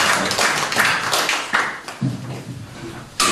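An audience claps to welcome a speaker at a media group's anniversary event, scattered, uneven hand claps that fade out, then a final loud burst near the end.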